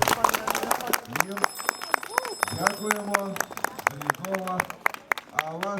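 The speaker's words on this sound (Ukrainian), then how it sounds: "Оплески" Scattered audience claps for a Transcarpathian folk choir at an outdoor town gathering, sharp individual hand claps popping irregularly while people talk over them throughout.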